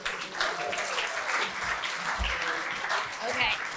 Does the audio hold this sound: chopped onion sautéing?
no